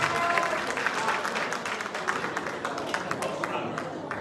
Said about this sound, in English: Please be up and stand up for giving a big round of applause.